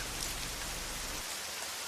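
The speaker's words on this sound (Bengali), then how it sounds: "সেদিন সারাদিন মুষলধারে বৃষ্টি হলো" Dense, steady downpour hisses loudly and evenly, a heavy rain with no other sounds over it.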